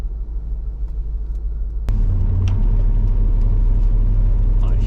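A Corvette project car's engine rumbles while driving, a steady low droning roar that jumps louder after a sharp click partway through, close and continuous with the car in motion.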